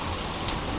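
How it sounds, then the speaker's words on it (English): Steady rain falls during a severe thunderstorm in the Texas plains, a continuous, even hiss of drops with no voices and no thunder standing out. "is just rain like this"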